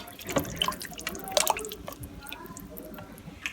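Broth is poured into an Instant Pot holding crushed tomatoes, rosemary, basil and bay leaves, giving wet splashes and drips with a couple of sharper plops early on, close and fairly quiet.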